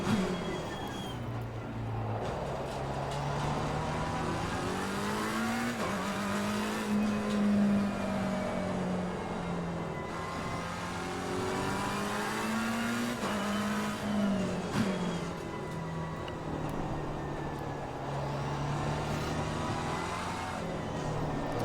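A race car engine in a sim racing video game lapping a track, a continuous near engine tone rising and falling through acceleration and braking, with no talk.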